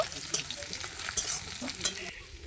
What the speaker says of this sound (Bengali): ফোড়নে কালো জিরে আর দিয়ে দিচ্ছি পেঁয়াজ কুচি চার থেকে পাঁচ সেকেন্ডের মতো আমি নাড়াচাড়া করে ভেজে নেব